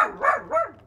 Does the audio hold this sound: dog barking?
yes